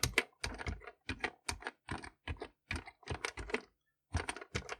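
Fingers type on the keyboard of a VTech PreComputer 1000 toy computer, producing quick bursts of loose, rattly key clicks in an uneven rhythm with short pauses, close and clear with no talking.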